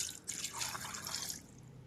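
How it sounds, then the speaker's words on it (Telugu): Water pours into a mixer jar in a short splashing gush that tapers off near the end, close by, with no voices. "దీనిలో కొంచెం వాటర్ పోసుకుందాం"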